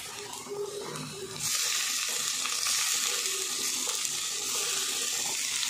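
Tomatoes being sautéed with onions in a pan for palak chole, a muffled rustle of stirring that jumps into a loud, steady, hissing sizzle after a moment and keeps going, close up.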